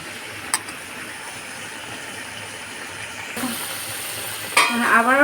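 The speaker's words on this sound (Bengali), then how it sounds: "এই তো আমাদের ঝোলটা অলমোস্ট ফুটে এসেছে।" A Bangladeshi mola fish curry gravy simmers in a pot, giving a low steady bubbling hiss with a few faint clinks and scrapes of stirring, and a brief clatter near the end.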